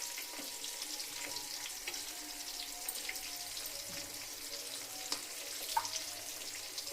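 Crushed garlic fries in oil alongside dried red chillies for tomato chutney, producing a gentle continuous sizzle dotted with scattered little pops and crackles, fairly quiet and without speech.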